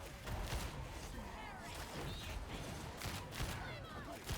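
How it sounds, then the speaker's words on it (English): Helbore lasgun charge shots in Warhammer 40k gameplay against elite enemies, with repeated sharp blasts and thuds over a busy, noisy battle din, with talk mixed in. "Using the charge shots on the elites now."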